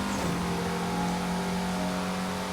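A Peugeot 205 T16 rally car engine in Forza Horizon 4 drones and revs at a steady high pitch, loud and continuous with a slightly buzzy tone.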